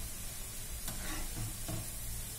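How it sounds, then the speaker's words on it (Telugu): Wheat flour pakodas deep fry in hot oil with a steady, close sizzle. A few soft clinks and stirring scrapes break in partway through, and no one speaks. "చాలా చక్కగా వేగుతున్నాయి పకోడా, గోల్డెన్ కలర్ వచ్చేదాకా పకోడాలని మనం"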